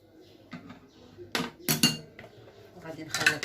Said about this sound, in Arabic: وغادي نخلط